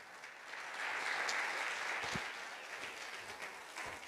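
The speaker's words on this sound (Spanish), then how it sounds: "Dale un fuerte aplauso al Señor." Congregation applause in a church service, a steady moderate wash of clapping that swells and then holds, with a few isolated thumps.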